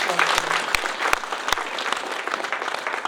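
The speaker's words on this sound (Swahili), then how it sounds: "Tumpigie makofi mengi." An indoor crowd at a cardinal's opening of a hospital emergency building claps together in sustained applause, fairly loud and close, with a few sharper individual claps standing out and no clear speech.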